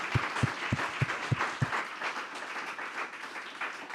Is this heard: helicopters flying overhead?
no